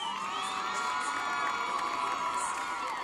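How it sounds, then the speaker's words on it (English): A large crowd at a high school football game cheers and whoops continuously, with high shouts rising over a steady roar of voices. "Please give a round of applause to our junior class princess, Miss Alexa Aguilar."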